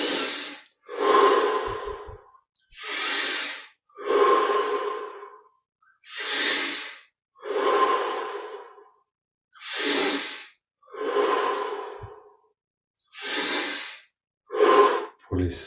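Deep, slow breaths during a guided breathing exercise, about a dozen long inhale and exhale cycles in an even rhythm, close and loud, each separated by a brief pause.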